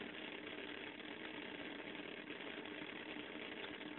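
A small electric motor runs on a capacitor step-down power supply, a steady, faint buzzing hum with rattly vibration, unchanging throughout.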